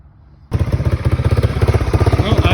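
A worn Honda 300 Fourtrax ATV engine idles roughly, bursting into loud, close, steady chugging pulses after a brief quiet start and keeping a slightly uneven beat.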